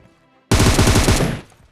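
A quick automatic burst of gunfire from a battle royale video game, one loud rapid volley of about ten shots lasting under a second, abruptly starting out of near silence and then cutting off.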